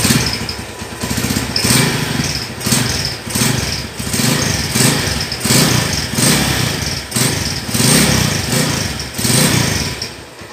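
A 2008 Tirev Special Edition motorcycle engine idles nearby with a steady rhythmic putter and regular pulsing beats, loud and running continuously with no talk over it.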